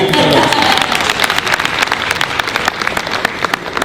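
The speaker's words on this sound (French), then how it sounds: "je pense qu'on peut l'applaudir" An audience at a cultural talk applauds a quiz contestant's correct answer, a loud burst of crowd clapping that starts dense and thins into scattered sharp claps toward the end.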